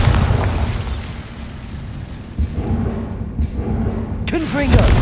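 Bombarda spell explosion in the Hogwarts Legacy video game: loud, close booming blasts and rumbling over several seconds, with a brief voice-like tonal sound near the end.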